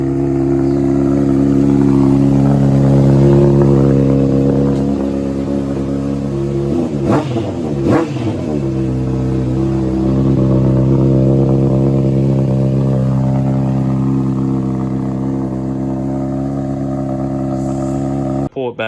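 A motorcycle fitted with a homemade quiet core exhaust baffle idles and revs loudly nearby, with a sharp double blip of the throttle in the middle before settling back to a steady rumble.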